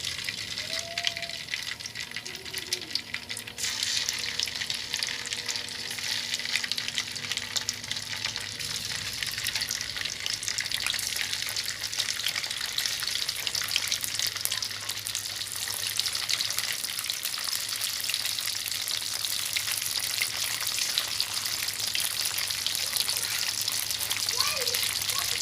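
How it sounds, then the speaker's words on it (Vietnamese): Gluten noodles (mì căn) frying in hot bubbling oil in a pan, a continuous bright sizzle and crackle running the whole time, with a voice talking over part of it. "Rồi bây giờ cái chảo dầu của mình nó sôi vậy nè các bạn, sẽ cho mì này vô ha."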